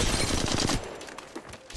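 Gunfire in the mobile battle royale game Apex Legends Mobile, a dense burst of rapid shots up close for under a second, then lighter scattered impacts trailing off.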